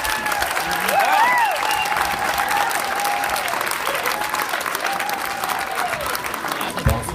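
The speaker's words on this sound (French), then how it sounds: "une bonne main d'applaudissements pour Yvan" An awards-ceremony audience applauds Yvan Desjardins with a dense, steady wash of clapping, loud and sustained throughout, with a few voices faintly mixed in.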